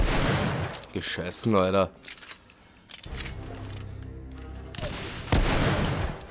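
Gunfire in the video game The Order: 1886, with loud broadband shots opening the clip and another burst near the end. Someone talks in German between the shots.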